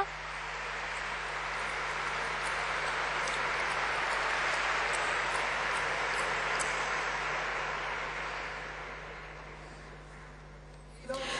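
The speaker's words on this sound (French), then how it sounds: "nous allons faire un applaudissement cumulatif. On le fait tout de suite alors." A large audience applauds at length during a talk at a meeting event, a broad, even roar of many hands that builds, holds steady for several seconds and slowly fades, with no talking over it.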